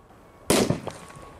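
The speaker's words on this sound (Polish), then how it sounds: "bardzo wysoko i bardzo ładnie ta petarda wystrzeliła" A Corsair K0204 Tropic firecracker explodes under a can outdoors, one sharp loud bang followed by a couple of quick rattling echoes and clatter that fade within a second.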